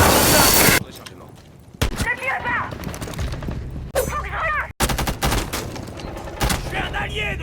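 Gunfire in the Rainbow Six Siege video game during friendly fire: a loud burst of rapid shots, then sharp single shots and short volleys, with game voice lines in French playing between the bursts.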